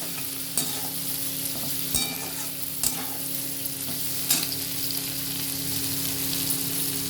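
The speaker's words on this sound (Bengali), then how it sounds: "সেইভাবে আমি এটাকে ভেজে নিচ্ছি আস্তে আস্তে" Chopped okra frying slowly in a pan, giving a steady close sizzle broken by several sharp scraping stirs of the spoon.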